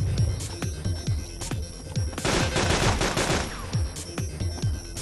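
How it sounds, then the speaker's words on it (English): Rapid bursts of automatic gunfire from the video game Arma 2, a steady train of sharp shots in a close, loud volley that thickens into a dense fusillade midway, with no talk. "I heard gunshots. I was shooting at them."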